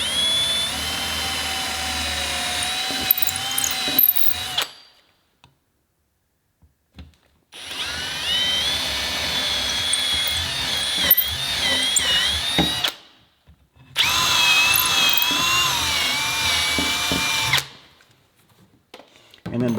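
A power drill whines loudly in three long bursts as it bores holes in a cabinet for door pulls, separated by short pauses of near silence, its pitch wavering slightly.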